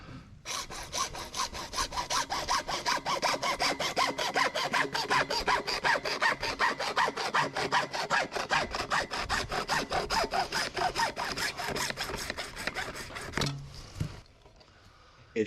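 A hand saw cuts through a PVC downspout drain pipe with fast, even back-and-forth strokes, a loud, steady rasping that lasts about thirteen seconds before the cut finishes and goes quiet.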